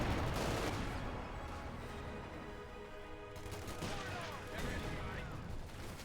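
Machine gun fire in the World War II strategy game Company of Heroes 2: dense, continuous bursts of automatic fire over a busy battle din, with a brief lull midway before the firing picks up again.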